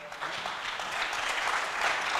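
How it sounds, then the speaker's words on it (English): A live audience applauds a sign language interpreter at an event, a steady wash of many hands clapping at moderate level, even and sustained with no break. "Let us take this opportunity to really applaud our sign language interpreter in the house."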